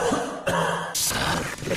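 Harsh, raspy coughs come in close, loud bursts, with a throat-clearing quality and a short pause between them.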